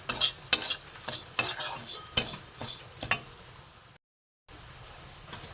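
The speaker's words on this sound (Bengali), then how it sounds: "কম আঁচে আস্তে আস্তে ভাজতে হবে" Semolina with sugar is stirred in a pan over low heat, with repeated scraping spoon strokes over a soft sizzle. A brief silent gap comes near the end, and no one speaks.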